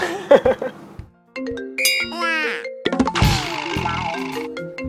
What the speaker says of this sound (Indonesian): gak mungkin gue angkat telepon Foni di depan Ira